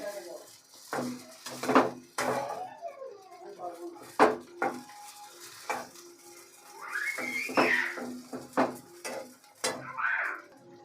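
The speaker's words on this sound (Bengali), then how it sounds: "তো এভাবে আমি 2 মিনিটের মতো এভাবে ভালো করে সবগুলো কষিয়ে পুরটা রেডি করে নেব।" Filling stirred and fried in a pan for about two minutes makes repeated clanks and scrapes of a utensil against metal, mixed with other kitchen noise and some voice-like sounds.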